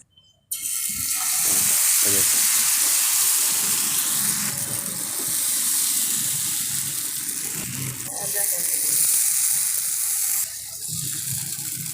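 Egg paratha paste poured into hot ghee in a pan for an egg paratha, giving a loud, steady sizzle that starts abruptly and runs unbroken, with a few faint clinks and stirring sounds on top.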